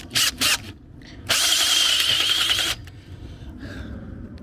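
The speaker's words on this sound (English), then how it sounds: "So let's drill out this hole" A power drill bores out a hole in metal during a tower build, first in two short bursts, then one sustained high whine lasting over a second, close and loud.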